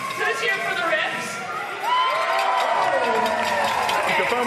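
A large arena crowd at a live sports match roars and cheers continuously, with whoops rising over the din, and a voice speaks over the noise throughout.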